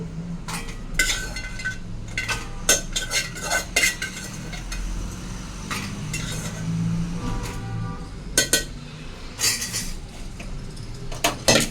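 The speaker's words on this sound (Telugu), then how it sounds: "సో ఎండుమిర్చి తీసేసుకుంటున్నాను అనమాట గిన్నెలోకి." Fried dried red chillies scooped from a pan into a bowl while making gongura chutney, with a run of metal spoon scrapes, clinks and taps over a faint sizzle, near and irregular.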